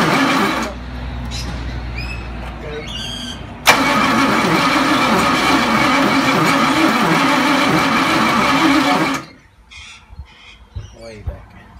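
A Ford ZG Fairlane with its choke partly closed cranks for a few seconds, then catches and runs loudly and evenly for about five seconds before cutting out. Crows call in the background.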